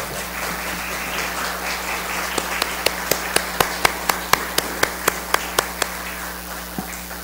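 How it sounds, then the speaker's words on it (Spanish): An audience applauds at the close of a lecture, a soft spread of clapping from the room with one person's sharp, evenly spaced claps standing out loudly up close, fading away near the end. "le damos un fuerte aplauso"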